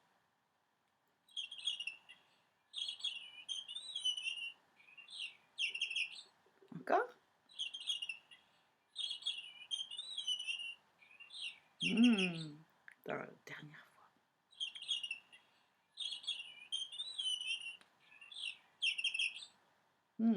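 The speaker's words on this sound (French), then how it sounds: "il entonne de sa douce voix un merveilleux chant de Noël" A small bird sings a sweet, repeated twittering phrase in short bursts, close and clear, with brief spoken interjections between phrases.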